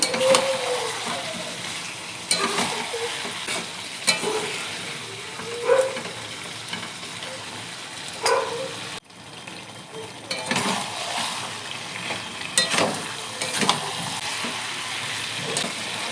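Fried potatoes and boiled young jackfruit cook with broiler chicken in a pan, sizzling steadily under repeated scraping stirs, with a brief break partway through before the frying resumes.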